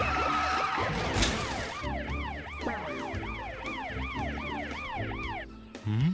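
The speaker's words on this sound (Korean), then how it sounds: "뒤에 사이렌 소리 들려?" A cartoon emergency siren wails, sweeping up and down repeatedly at moderate distance behind a vehicle, with low vehicle rumble underneath and no talking.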